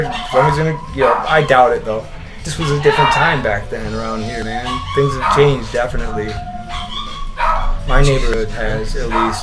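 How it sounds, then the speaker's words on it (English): Dogs barking, yipping and howling behind someone talking casually with another person, the animal sounds mixed under the continuous conversation. "Apologies for the dogs."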